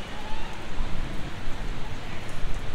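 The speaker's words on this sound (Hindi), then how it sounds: "ठंडी बारिश हो रही है।" Steady cold rain falls outdoors, a dense continuous hiss of drops close by, with no voices and a faint rumble underneath.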